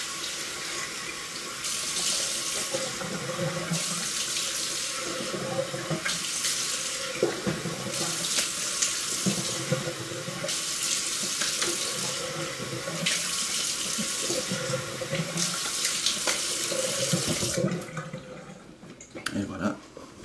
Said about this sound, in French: Donc je vais me rincer.